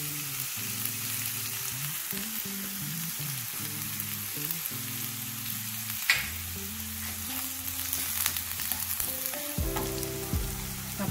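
Sliced onions sauté in oil in a pan with a steady, close sizzle that runs the whole time, while background music plays and no one talks.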